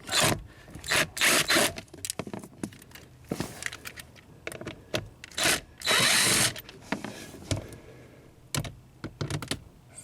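A power driver backs three T20 Torx screws out of a Honda Accord blower motor, sounding as short bursts of whirring separated by quiet pauses and small clicks and rattles, fairly close and with no talk.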